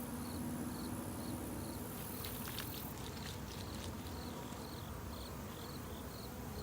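A honeybee colony being shaken to dislodge mites buzzes with a continuous, faint insect drone, and soft rattling taps are briefly mixed in near the middle.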